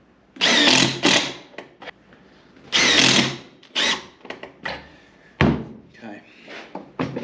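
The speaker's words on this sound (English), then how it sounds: "I'm going to drive these screws in now." A screw gun drives screws into a wooden face frame in a few loud, close whirring bursts, with clamping clatter and handling knocks between them.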